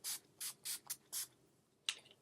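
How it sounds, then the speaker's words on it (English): Setting spray spritzed onto the face: five quick hissing bursts in a steady rhythm, a short pause, then one more spritz, close and soft in a quiet room. "I'm just going to spray my face with this."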